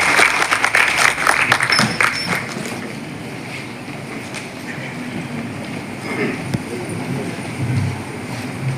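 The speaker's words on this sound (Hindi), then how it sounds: "करें जोरदार तालियां बजाकर स्वागत" Loud welcoming applause from the audience at a paralegal volunteer training program, strong clapping at first that fades after about two seconds into murmuring room noise and scattered sounds.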